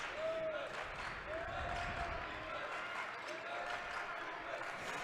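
Crowd noise at a high school basketball game between Lincoln Lutheran and Doniphan-Trumbull, with a steady murmur of spectators, squeaking sneakers on the gym floor and scattered cheering throughout.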